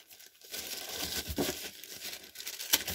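Plastic bags crinkle and rustle close by as WPL C34 RC car wheels with soft rubber tyres are unpacked, an irregular run of crumpling and tearing sounds.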